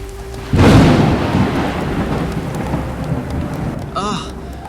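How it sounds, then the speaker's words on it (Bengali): A sudden cartoon storm breaks over a village: a loud thunder crack opens into steady heavy rain that roars on without pause, with a brief higher-pitched sound near the end. "হঠাৎ ঝড়, বৃষ্টি,"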